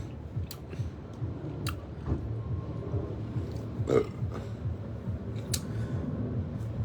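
A loud burp sounds once amid quiet background noise and scattered small ticks and clicks during a meal of free soft drinks and food.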